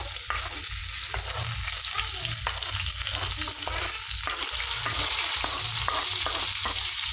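Onion, tomato, curry leaves, green chili and coriander leaves fry in oil with a dense, continuous sizzle, and a spatula stirs and scrapes through it with repeated clicks, close by.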